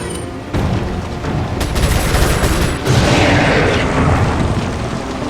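Rapid bursts of gunfire fired at a monster's eyes in Resident Evil 4, loud, dense and continuous, with booming impacts and explosive blasts running through the whole stretch.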